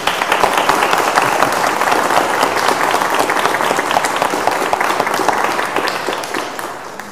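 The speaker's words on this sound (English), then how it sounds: "shall we give them a round of applause?" Sustained, enthusiastic applause from a large church congregation fills the space, dense and steady before tapering off slightly at the end.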